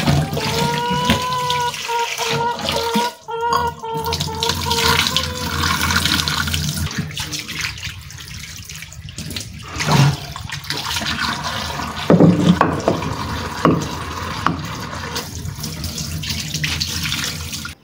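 Running tap water washing fish, onion and garlic in a home kitchen: a steady close splashing and gurgling stream with shifting tone as items are rinsed, lasting throughout, with occasional clatter and no speech.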